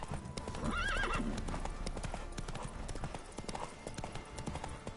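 A horse clops along at a steady hoof rhythm with a clear neigh early on in The Witcher 3, mixed with game ambience and a faint voice.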